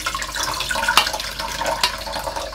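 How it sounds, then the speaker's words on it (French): Tap water runs and splashes over canned jackfruit being drained and rinsed in a sink, a continuous close gushing flow with small bursts of splashing. "Il faut égoutter tout ça et le rincer."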